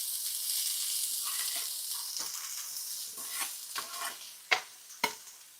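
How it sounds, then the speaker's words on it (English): Chopped vegetables for a high-protein chili sauté in a pan, giving a soft, steady sizzle broken by stirring scrapes, with a few sharper clacks of the utensil near the end. "Before we add our meat, we're going to saute some of this things that we cut up."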